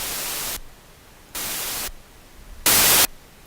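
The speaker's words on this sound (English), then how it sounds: "And white noise is every frequency." Bursts of synthesized broadband hiss from the TuneFish synth switch on and off: two steady stretches of white noise, then a third that is brighter and louder, with near-silence between.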